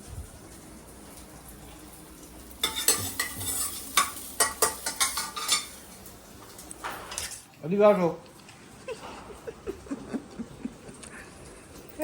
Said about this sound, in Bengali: দেখো পেঁয়াজ পুড়ে যাচ্ছে